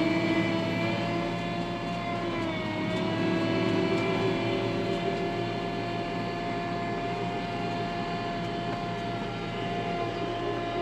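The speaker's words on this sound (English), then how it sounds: "just going for a casual joyride in the sprayer" A John Deere 4630 sprayer runs in road gear with a steady, loud engine drone and strong tonal whine, holding an even pitch throughout from close by.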